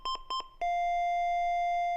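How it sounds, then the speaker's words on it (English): A pulse oximeter with a Rainbow sensor sounds its CO advisory alarm: four quick beeps in two pairs, then one long, sustained steady tone, clear and alone. "There's an alarm tone, an advisory message, and the elevated value starts flashing here instead of the SpO2"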